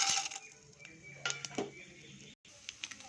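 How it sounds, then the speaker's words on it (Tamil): Mustard seeds and chana dal temper in hot oil for banana flower poriyal, crackling and popping in scattered sharp bursts with faint metallic clinks, close by and fairly quiet. "கடுகு, கடலைப்பருப்பு போட்டு தாளிக்கலாம்"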